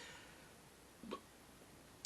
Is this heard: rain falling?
no